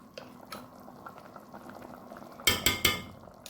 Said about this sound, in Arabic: دي اللحمة المفرومة بتتعصب اهي